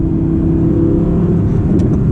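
Low, steady engine rumble from an Audi R8 driving through S-turns in cold weather, a close continuous drone with no talking.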